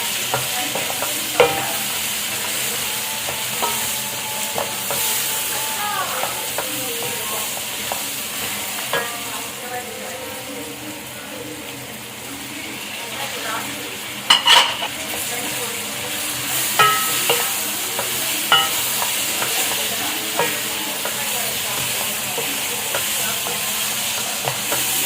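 Potatoes and capsicum for aloo shimla mirch fry in a pan with a steady close sizzle, broken by spoon scrapes and occasional sharp clacks against the pan.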